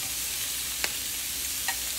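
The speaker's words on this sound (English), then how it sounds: "you want to go ahead and flip them" Shrimp sizzle steadily in a hot frying pan as they are flipped, with two faint clicks of a utensil against the pan amid the constant close crackle.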